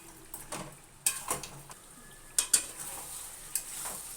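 Chicken and fried potato pieces stir-fried in a pan during kasha, with a few sharp scrapes and clinks of the spatula over a faint sizzle, with quiet pauses between strokes.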